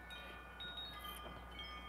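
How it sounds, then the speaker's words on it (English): Strong outdoor wind batters the microphone, a steady low rumbling roar with gusty swells across the short stretch, no talking over it. "That's really windy."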